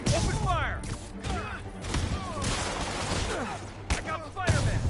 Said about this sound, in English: Got eyes on Spider-Man! There he is! Open fire!